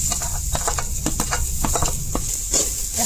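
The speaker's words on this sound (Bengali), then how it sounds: "কড়াইয়ের মধ্যে ওখান নারিকেলটা দিন," Grated coconut stirred and toasting in a kadai, with soft scraping strokes and light crackling sizzle in an uneven rhythm, close by.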